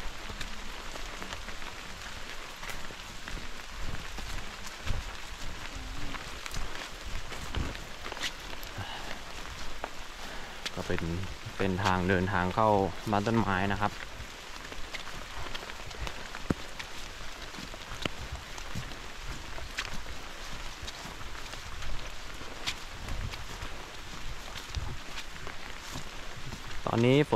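Steady rain falls all around a treehouse in a forest during a storm, a dense continuous patter that persists throughout, while someone talks over it.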